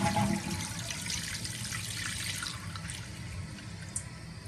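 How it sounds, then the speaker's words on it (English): A household toilet flushing, set up to flush twice and drain all the way down, with a steady rush of water at moderate level running throughout, close by and without speech. "Now you can see the flush is happening here."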